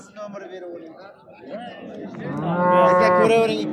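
A cow moos loudly at a busy livestock market in Chust, a long drawn-out low call rising in the second half, with people chattering and talking around it.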